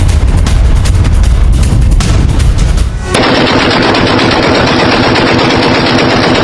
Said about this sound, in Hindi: पाक सैनिकों ने पहले चौकी पर हमला किया, भागते अफगानी सैनिकों पर फायरिंग भी की गई है।